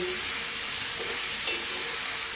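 Pieces of beef frying in hot oil while being stirred in a pan, a loud, continuous hissing sizzle close up with faint scraping from the stirring.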